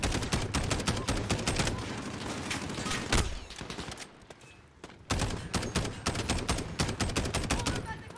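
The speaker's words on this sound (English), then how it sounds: "Scar has a lot of recoil." SCAR rifle gunfire in the 2019 Call of Duty Modern Warfare campaign: loud, rapid bursts of shots, a brief lull of quieter action midway, then sustained firing resumes.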